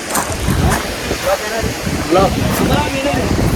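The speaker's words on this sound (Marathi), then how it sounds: "वॉटरफॉल चालू आहे" Water rushes at Chondhe waterfall near Shahapur in Thane, a broad steady roar mixed with wind buffeting the microphone while people talk over it.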